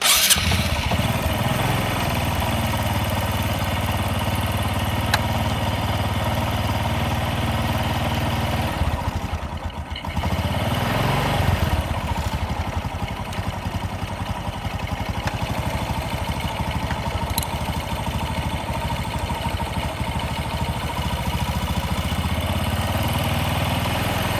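A Honda Supra X 125 motorcycle engine, its carburetor just serviced, starts up and settles into a steady close idle that dips briefly and then runs on evenly, with no speech.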